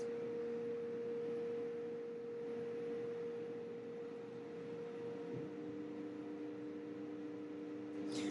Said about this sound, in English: So the machine moves until it finds all the homing sensor, and that's where it zeroes itself.